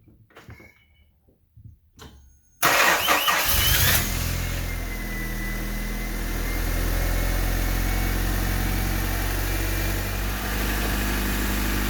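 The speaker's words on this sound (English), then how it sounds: "Now we have to start the car, and then we will see what this shows." A 1988–91 Honda Civic engine cranks for about a second after some quiet handling noises, catches with a loud burst, then settles into a steady, close idle that continues to the end.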